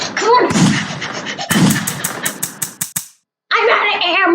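Rapid video game gunfire bursts out as a string of sharp shots in quick succession, with a player's excited voice talking over and between them before a brief silence.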